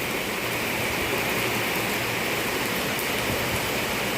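Heavy rain pours down over a village in a constant, dense roar of falling water, loud and unbroken with no voices.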